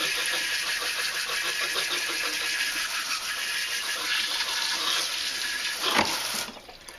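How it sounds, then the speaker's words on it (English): Water sprayer rinsing the filter of a Baseus A2 Pro portable USB-C rechargeable car vacuum, a steady close hiss of spray that runs for about six seconds, then a brief burst and it cuts off. "if I hit it with a sprayer, I'm getting all of those things out of the crevice"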